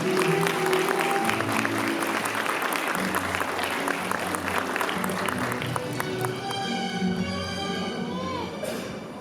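Guests clap in blessing at a wedding ceremony in a convention hall, a loud, dense burst of applause that thins out toward the end, with faint voices underneath.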